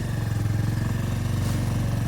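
A small motorcycle engine drones steadily while riding through Diphu city in Karbi Anglong, a low, even putter that stays loud and close with no talk.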